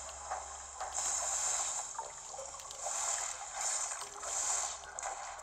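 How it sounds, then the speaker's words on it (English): Water in the Metroid Dread video game as the character falls in: a steady, hissing wash of splashing and churning water with gentle swells in loudness throughout, no voices. "Oh shoot, I fall in the water."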